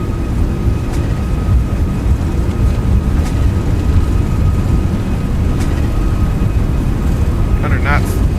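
Airbus A340-600 engines at takeoff power in the X-Plane 12 flight simulator, a continuous deep rumble that stays steady throughout, with a few faint clicks and a brief chirp near the end.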